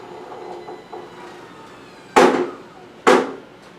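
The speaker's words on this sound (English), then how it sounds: "That noise is just a plastic box under here." Two sharp rattling clatters about a second apart, loud against a low background hum, as a plastic box under a Quantum iLevel power wheelchair jolts on its frame.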